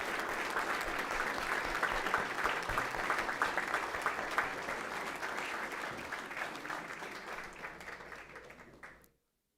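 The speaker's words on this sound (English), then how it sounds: "Let's give them a round of applause as they enter." Sustained applause from an audience at a Weslaco ISD school board meeting as the district's boys wrestling team walks in, steady and fairly even for about nine seconds before cutting off abruptly.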